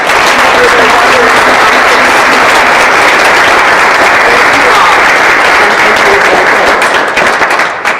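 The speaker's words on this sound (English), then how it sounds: "Can we all applaud them?" An audience at a quilt unveiling ceremony applauds loudly and steadily for several seconds before the clapping begins to thin out at the end.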